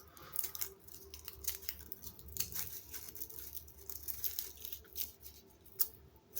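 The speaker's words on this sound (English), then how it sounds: "So use the scissor, just simply trim and form it like a circle." Scissors trimming material into a circle for a DIY mini mushroom garden, soft quiet snips and rustling crinkles repeating irregularly at close range against a low background hum.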